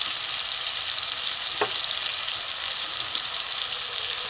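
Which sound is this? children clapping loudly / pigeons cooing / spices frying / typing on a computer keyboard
spices frying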